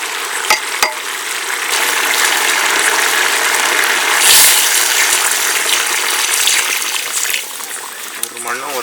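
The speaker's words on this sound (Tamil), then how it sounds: "நம்ம இப்போ வந்து அரிசிக்கு மட்டும் அளவு தண்ணி ஊற்றிக்கலாம்." Water pours steadily into a pot of rice for biryani, a continuous loud gushing rush that carries on for several seconds in a kitchen setting.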